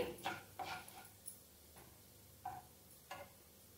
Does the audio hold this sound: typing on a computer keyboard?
no